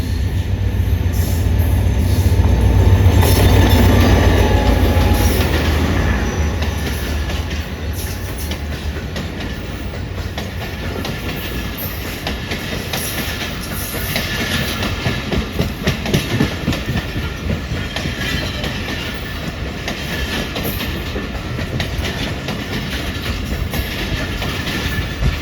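The 18 Down Millat Express, a passenger train running between Lala Musa and Karachi, rolls past at close range with a heavy low rumble giving way to continuous clickety-clack of wheels and metallic squeal over a long steady stretch.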